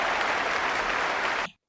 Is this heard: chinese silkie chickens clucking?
no